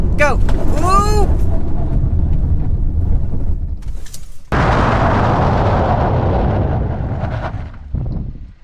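2021 VW Jetta R-Line manual under hard braking with ABS engaged, heard as loud roaring road and engine noise with tire chirps early on, then a broadband rush that fades as the car slows, with talk over it.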